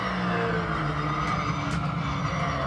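Porsche race car in Assetto Corsa on Xbox One, its engine droning steadily at high revs through a continuous, loud and unbroken stretch with no talk.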